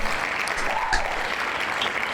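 Hand claps welcoming a guest on a live online music show, a steady patter of applause at moderate level, fairly even throughout.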